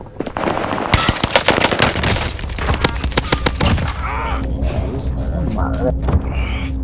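Automatic gunfire in the battle royale shooter Call of Duty: Modern Warfare Warzone, loud rapid bursts of close shots for several seconds, then calmer game noise with someone talking over it.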